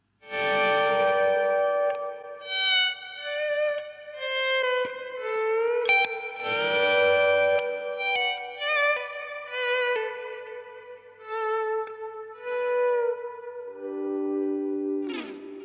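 Electric guitar through the blue side of a Protein overdrive pedal, playing a clean-leaning, lightly driven solo line with bends and sliding notes in a pedal-steel style, steady and moderately loud.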